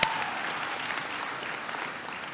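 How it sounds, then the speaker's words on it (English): Graduation audience clapping together, a steady dense wash of applause that holds evenly loud from start to finish with no voices over it. "go ahead and clap"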